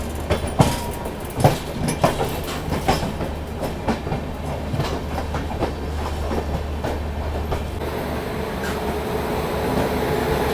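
Trains hauled by WAP5 and WAP7 electric locomotives run side by side, giving a continuous heavy rail rumble with rhythmic wheel clacks that fade into a smoother steady roar near the end.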